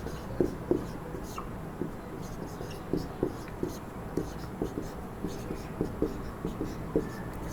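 Chalk or marker taps and strokes on a board as five-digit numbers are written, a string of short scratchy marks at an irregular pace, with a quiet voice talking throughout.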